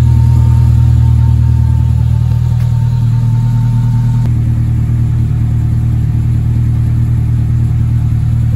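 A Renault Clio 172 engine idles steadily while warming up, a loud, constant low rumble heard close by with no change in pace.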